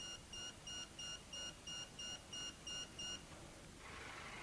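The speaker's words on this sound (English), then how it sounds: "A bale and wrap counter is also supplied as standard, complete with audible alarm." A Kverneland round bale wrapper's bale and wrap counter alarm sounds a series of about ten evenly spaced electronic beeps, fairly loud and close, repeating in a steady rhythm before stopping.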